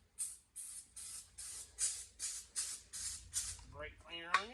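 Brake cleaner sprayed in a series of about nine short, close bursts onto the over-arm support of a Burke milling machine, with a brief voice at the very end.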